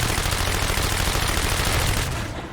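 Continuous rapid automatic gunfire from a video game weapon in the zombies-style Nightmare Zone mode, a dense loud stream of shots that tapers off toward the end.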